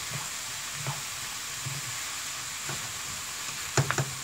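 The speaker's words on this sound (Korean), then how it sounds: "여기 식은밥을 넣어줍니다" Cold, previously frozen rice is stir-fried in a pan for omurice fried rice, giving a steady close sizzle with soft scraping stirs at intervals and a few sharper clinks near the end.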